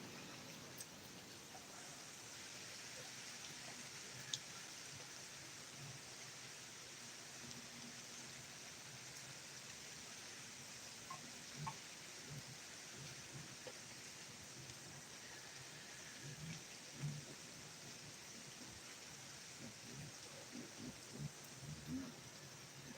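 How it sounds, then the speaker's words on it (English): Heavy rain falls in a continuous, even hiss with scattered soft pattering, heard faint and steady throughout with no distinct thunderclap. "Sure is a lot of rain."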